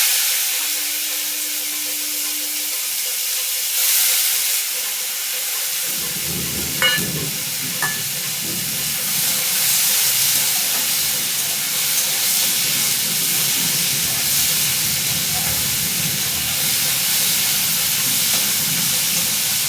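Chopped onion sizzling as it fries in a pan, after four eggs are lifted out, a steady hissing fry that starts partway through and continues loud and close to the end.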